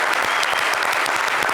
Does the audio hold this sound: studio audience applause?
yes